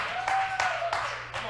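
A church congregation claps in a few spaced bursts during a sermon, sitting over a sustained organ-like tone and low hum.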